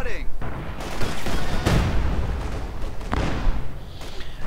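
Artillery barrage in the Company of Heroes strategy game, with a dense run of booming impacts and gunfire that stays loud throughout, surging around the middle and again near the end.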